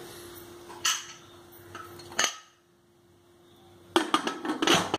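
A pressure cooker lid is shut in a home kitchen while ash gourd moru curry is being made, with a few sharp metallic clanks followed by a quick burst of pots clattering nearby.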